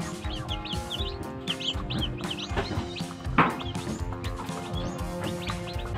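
A brood of young chicks peeping and clucking around a feeder of Integra 1000 starter feed, with busy overlapping chirps close by and a sharp louder call partway through.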